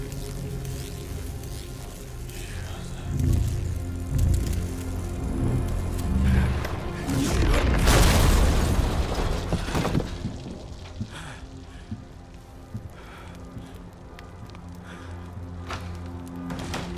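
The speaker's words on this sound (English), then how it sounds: "I love that we have an energy explosion in our apartment" A crackling energy anomaly bursts inside an apartment in S.T.A.L.K.E.R. 2, swelling into a loud whooshing surge that peaks and then fades to lighter crackles and scattered ticks.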